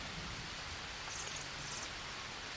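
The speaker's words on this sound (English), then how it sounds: "I am appreciating the rain, though." Steady rain pours in the jungle of Green Hell, a survival video game, a dense even hiss of falling water with scattered droplet patter, constant and fairly close with no voices over it.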